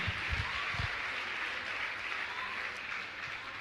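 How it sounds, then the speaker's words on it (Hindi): An audience at a religious gathering in Guna claps steadily for a few seconds, the applause fairly faint and even, with a few low thumps near the start. "एक बार जोरदार गुना वाले अपने लिए ताली बजाएं।"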